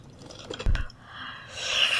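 Close, soft chewing of grilled mini sausages, with a single squishy bite followed by quiet mouth sounds and a faint rising hiss at the end, no talking.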